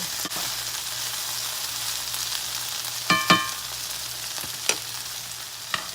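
Okra frying in a very hot cast iron skillet gives a steady, close hiss and crackle, with a few sharp clinks and scrapes of a utensil partway through and no talking.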